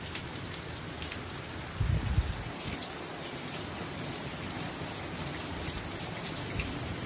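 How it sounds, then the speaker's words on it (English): Steady, dense rain pours down throughout, a heavy downpour with a brief louder rumble of low thunder or gusting about a quarter of the way in. "now it is storming its butt off."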